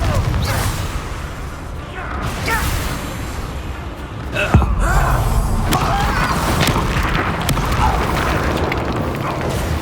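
Confringo fire-blast spell in Hogwarts Legacy combat, a booming burst with a sharp crack near the middle amid dense rumbling battle noise and scattered impacts.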